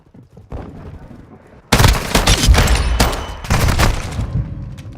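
Bursts of rapid gunfire from a first-person shooter video game, starting abruptly and running as loud, dense volleys with a brief pause before firing resumes, over a faint background voice.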